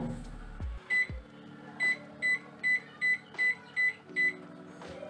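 A microwave convection oven preheating gives a steady electrical hum with a series of about seven evenly spaced short beeps, close and clear, after a couple of dull clunks at the start.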